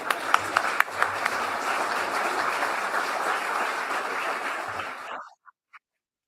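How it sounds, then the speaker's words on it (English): Convention audience at a farmers union general session breaking into sustained applause, dense clapping that fades out over a few seconds with a couple of final claps. "We can give Jeff a applause"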